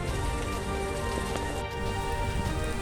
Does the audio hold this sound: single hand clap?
no